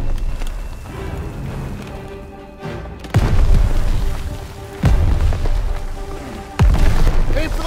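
Ammo boxes blowing up in a Call of Duty WW2 campaign battle: three heavy, booming detonations a couple of seconds apart, each with a long rumbling tail, over constant battlefield noise.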